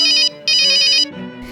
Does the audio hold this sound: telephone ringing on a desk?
yes